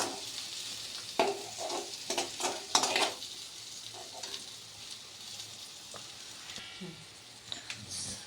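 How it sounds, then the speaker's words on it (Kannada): Spices with coriander powder fry in a pan, with a soft, continuous sizzle and a cluster of louder stirring and clattering strokes early on, then quieter frying with an occasional scrape. "ಸ್ವಲ್ಪ ಫ್ರೈ ಮಾಡ್ಕೊಳ್ಳೋಣ."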